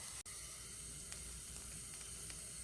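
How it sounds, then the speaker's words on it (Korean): Zucchini with shrimp stir-fries in a half-and-half mix of perilla and sesame oil. A quiet, steady sizzling hiss runs throughout, with one brief sharp tick near the start. "호박을 들기름하고 참기름하고 반반씩 섞어서 볶을 거예요"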